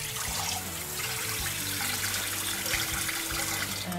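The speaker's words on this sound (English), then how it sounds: "I put water in here" Steady water running into a container while goat milk soap is being made, a continuous close trickle filling the space alone, with no talk.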